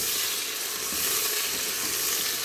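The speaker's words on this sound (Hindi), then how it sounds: "अब मैं इसमें गोश्त डाल दूँगी। और इसको भी फ्राई कर लेना है आपने गोश्त के साथ।" Mutton and onions fry loudly in a pan, a dense, continuous close sizzle that stays even and strong throughout with no talking.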